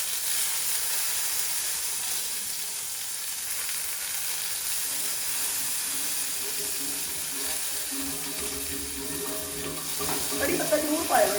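Finely chopped curry leaves sizzle in a hot pan while veg poha is being cooked, giving a steady frying hiss that crackles louder near the end, with a voice talking faintly.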